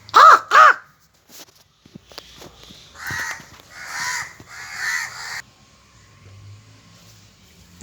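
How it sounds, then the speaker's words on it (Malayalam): Crows cawing nearby as food is set out for them: two sharp, loud caws open, then a run of longer, hoarser calls follows before the yard falls quiet with faint low background noise. "കാക്കയൊക്കെ വന്നിരിപ്പുണ്ട്"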